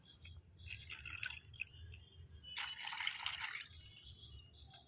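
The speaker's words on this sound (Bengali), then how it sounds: "এই জলটা কিন্তু এর ভিতরে অল্প অল্প করে দিয়ে দেবো।" Water trickling and splashing into a mixture of dissolved lemon, salt and sugar for a homemade lemon malai drink, two bursts of pouring a little at a time, close and moderately loud.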